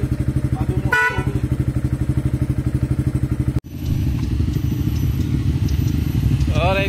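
A replacement horn on a VF3i motorcycle gives a short sweeping blast over the steady chugging of the idling engine, and a second short toot sounds near the end after the engine note shifts.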